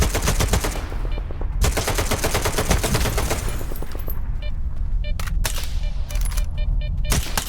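Sustained automatic gunfire in Stalker 2, loud and close, with rapid bursts running almost without pause and brief gaps near the end.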